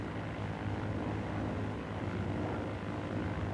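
A Grumman F6F Hellcat piston engine and propeller roar steadily as the throttle is eased forward for takeoff, a loud, continuous, dense drone with a low hum beneath, no voices.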